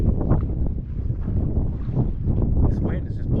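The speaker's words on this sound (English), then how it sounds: "This wind is just blowing me right down the inlet again." Wind buffets the microphone on a jetski riding through Effingham Inlet, a loud continuous rumbling roar with water and engine noise mixed in.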